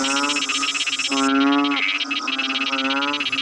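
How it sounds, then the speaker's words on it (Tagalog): Buzzing, rasping frog calls in a farm field repeat in pulsing bursts, close and fairly loud, overlapping against a dense chorus of night creatures. "maingay sila kasi tumatawag sila ng mga kapwa nila palaka"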